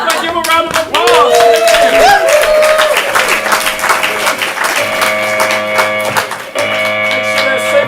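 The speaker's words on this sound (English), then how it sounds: "Can I give a round of applause?" A comedy improv audience in Portland gives a round of applause, steady dense clapping filling the room alongside music with sustained tones, loud and close throughout.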